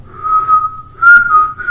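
Yoshis from Yoshi's Story sing the game's main theme in high, whistle-like sustained tones, a few phrases of the melody played alone.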